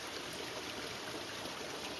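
Mountain stream water flows steadily down rock steps into pools along the trail near Sierra City, a soft, continuous rushing and trickling heard at moderate distance without any talking.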